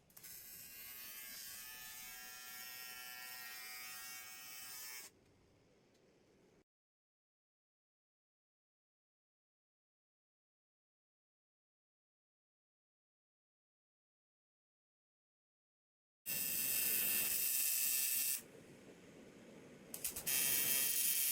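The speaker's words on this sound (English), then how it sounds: "Now I'm going to weld it" Welding on the wheel well of a new RV chassis comes in two loud, buzzing, crackling bursts, one at the start and one near the end, separated by a long stretch of silence.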